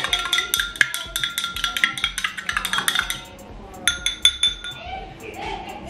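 Supplement powder being stirred in a container, with repeated bright clinks and taps of a utensil against the sides in quick irregular bursts, close and fairly loud, then a few softer clinks near the end.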